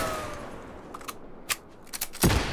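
Rifle gunfire in Generation Zero: a few sharp cracks scattered through a quiet stretch, then a louder, fuller burst near the end, moderately close with no talking.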